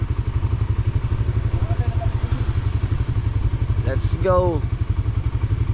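Motorcycle engines idling close by with a dense, rapid low putter that runs unbroken, while someone speaks briefly over them.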